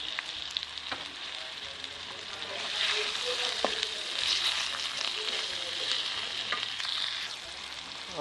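Steady, close sizzling and crackling of tomatoes frying in a pan with potatoes and carrots, a continuous bright hiss with occasional spatters and stirring, no talk.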